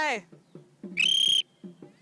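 A person imitates a referee's whistle with the mouth alone, giving one short, loud, trilling whistle-like blast of about half a second between bursts of talking.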